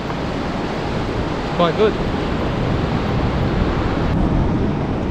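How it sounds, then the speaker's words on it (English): A southeaster wind blows at a beach, a steady broad rush of wind and surf buffeting the microphone, loud and continuous, with a brief spoken phrase partway through. "southeaster wind blowing at the moment"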